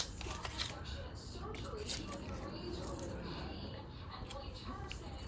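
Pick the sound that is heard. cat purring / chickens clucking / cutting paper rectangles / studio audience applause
cutting paper rectangles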